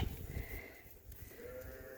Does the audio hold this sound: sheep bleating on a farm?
yes